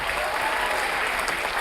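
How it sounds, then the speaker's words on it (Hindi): An audience at a live stand-up comedy show claps steadily and fairly loudly on cue, a dense, even wash of applause with no voices over it. "ठोको ताली।"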